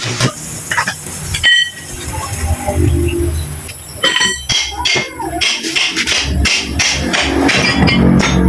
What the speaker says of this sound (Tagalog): pinupukpukpuk na po natin para po matanggal natin yung center stand